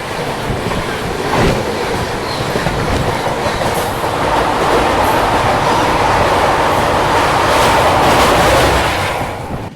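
The Mumbai-Ahmedabad double-decker express running near Surat, a loud continuous rush of rolling carriages with rhythmic clickety-clack over the rails, swelling slightly toward the end.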